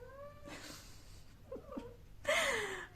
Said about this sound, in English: My cat is in heat and she's having a little bit of a hard time.